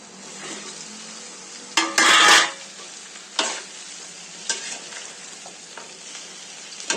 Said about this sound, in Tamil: இப்ப நம்ம வெங்காயத்தை இந்த லேடிஸ் ஃபிங்கரை போட்டு இப்ப நம்ம ஃப்ரை பண்ணிக்கலாம்